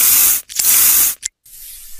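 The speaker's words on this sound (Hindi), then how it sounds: "और देखिए स्प्रे हम लोग मार रहे हैं इसके पूरे सिक्स पे लगे हुए कीड़े को" A spray bottle fires two loud, close hissing bursts separated by brief gaps, followed by a fainter, softer spray tail, with no voices.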